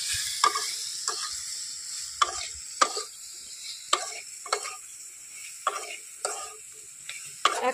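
Okra seasoned with salt and turmeric frying in hot oil, a spatula scraping and tapping the pan in a loose rhythm of sharp strokes every half second or so over a faint, steady sizzle.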